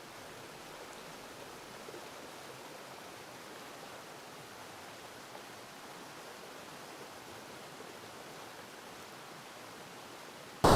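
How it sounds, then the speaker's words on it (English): Water flowing over the Smallwood Dam spillway on the Tittabawassee River during the 2020 flood, a steady, faint broadband rush heard from a distance without any voices. "Quite a bit of water flowing over this area right now."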